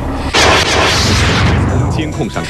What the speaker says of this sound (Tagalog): Sena sa pelikula ang pagsabog na ito sa Northeast Philadelphia sa Amerika na naganap habang nag-iinspeksyon ng mga otoridad sa isang sirang tubo ng gas sa isang bahay